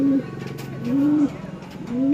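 Racing pigeons coo close by, three soft throaty calls rising and falling at a slow, even pace against a quiet background.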